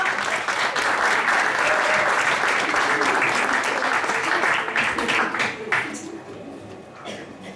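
A theatre audience at a Valentine's Day show applauds loudly and continuously, a dense wash of clapping that thins and fades toward the end.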